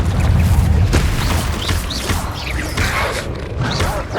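A Confringo fire spell blast in Hogwarts Legacy on PS5, a loud, dense burst of crackling and booming that fills the short moment at close range.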